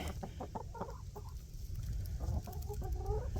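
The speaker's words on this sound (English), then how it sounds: "My chickens actually started to lay some eggs" Backyard homestead chickens cluck in short, repeated bursts near a nesting box, with soft fowl calls overlapping against a steady low background hum and no talking.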